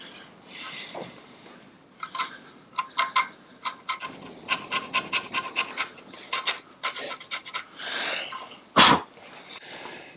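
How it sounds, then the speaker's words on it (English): Scraping old gasket off the top of a Ferguson tractor gearbox around the gear knob hole: a series of short, rasping scrapes at close range, fairly loud, in quick bursts with a sharper knock near the end. "I've scraped off all the old gasket around the gear knob hole here"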